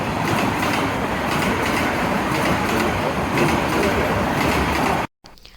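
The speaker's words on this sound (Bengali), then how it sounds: "কারণ ট্রেন যাওয়ার যে একটা ঝিক শব্দ, এটা শুনতে অনেক ভালো লাগে।" A passing train rumbles and clatters loudly and continuously at close range for about five seconds before the sound cuts off abruptly.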